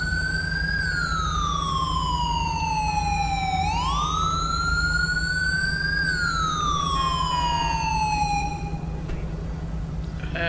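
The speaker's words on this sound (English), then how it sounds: "I'm really not a fan of this new siren package" A police siren from a GTA V LSPDFR mod siren package wails in loud, slow rising and falling sweeps, then switches to a quicker yelp near the end, over a steady engine hum.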